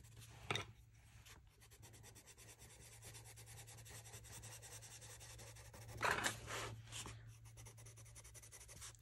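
Chalk pastel pencil scratches softly across paper in quick back-and-forth strokes, a close, quiet rasp with a few louder bursts of scribbling.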